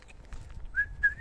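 A person whistles a short pair of clear, thin notes near the end of a quiet outdoor moment in a strawberry garden, faint and brief with no talking.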